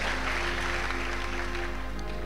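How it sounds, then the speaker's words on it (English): A church congregation claps together during a service, a brief, dense burst of hands over a steady low hum from the sound system. "Clap and be seated."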